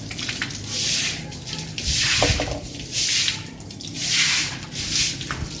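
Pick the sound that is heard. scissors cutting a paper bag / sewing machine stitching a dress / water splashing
water splashing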